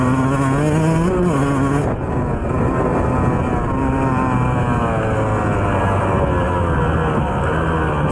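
A 2004 Yamaha YZ125 two-stroke dirt bike engine drones loudly and steadily close by, its pitch rising and falling as the rider works the throttle, with heavy wind rumble.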